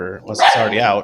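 A dog barks sharply indoors, a single loud close bark rising over a person who keeps talking.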